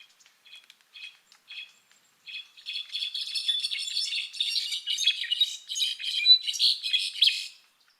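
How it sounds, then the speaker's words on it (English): A brown-backed solitaire sings a series of high, bright, rapid phrases, starting with a few sparse notes and building into a busy, continuous song; no other sounds. "There's also a bird called the brown-backed solitaire"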